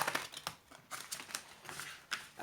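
A deck of tarot cards being shuffled by hand, quick papery riffles and slaps in an uneven rhythm, close and without talk.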